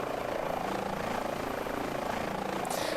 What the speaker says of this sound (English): beautiful, beautiful helicopter.